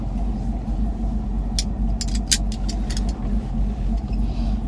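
A car with a GEN V L83 engine swap idles and pulls away, a low steady engine rumble under a few sharp clicks and knocks from inside the cabin.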